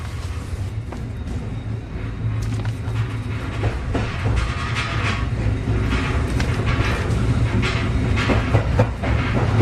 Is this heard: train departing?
yes